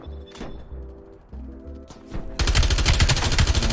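Gunfire in the video game Call of Duty Cold War: a few isolated distant shots with background music, then a sudden loud, rapid automatic burst that continues to the end.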